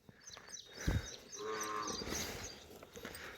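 A water buffalo moos in a long, low, drawn-out call, close by, with faint background noise and no talking.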